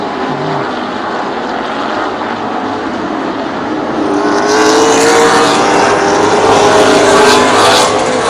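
Late model sportsman race cars roar around Plymouth Speedway in a CRA feature race, a loud continuous engine drone that swells as the cars pass close by.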